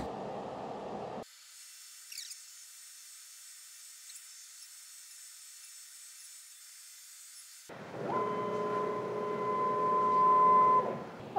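Wood board being planed by a CNC router spindle running at 16,000 RPM, a steady high-pitched machine whine that drops out partway, then returns with louder cutting noise and a rising tonal whine near the end.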